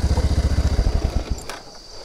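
A Bajaj Avenger motorcycle engine idling close by with a steady rapid low thump that fades and cuts out after about a second and a half, followed by a brief faint clatter.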